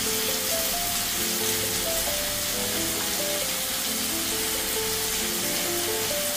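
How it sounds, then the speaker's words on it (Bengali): Chili powder and spices frying in a pan with melted tomatoes for an aubergine curry, a steady loud sizzle throughout, overlaid by soft background music with no talk. "মশলাটাকে একটু ভালো করে কষিয়ে নেব।"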